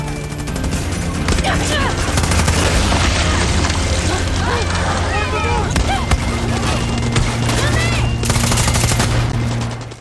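Loud, continuous gunfire and booming blasts from a Far Cry 6 shootout, rapid bursts layered with explosions and game effects over a steady musical drone.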